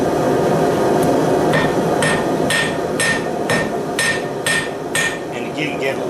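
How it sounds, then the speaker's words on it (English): A hammer pounds folded hot bandsaw blade steel for forge welding, about ten evenly spaced ringing strikes roughly every half second, loud and close over a constant forge blower roar. "And again, get a little aggressive on the hammer."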